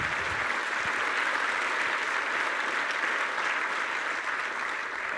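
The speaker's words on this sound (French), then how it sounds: "j'aimerais qu'on applaudisse toutes les autres conférences, tous les bénévoles qui s'investissent en France et dans le monde" Conference audience at DevFest Toulouse breaking into dense, sustained applause, a steady wash of many hands clapping that carries evenly throughout with no voices on top.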